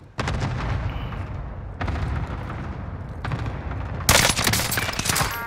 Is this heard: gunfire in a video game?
yes